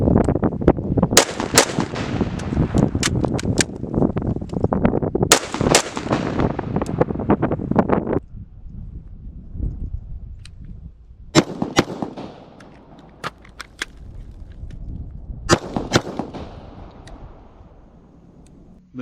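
A .223 rifle fired during rifle drills at a range: loud, sharp shots, first in quick clusters, then after a lull in spaced pairs and singles, each with a short echoing tail and no talking.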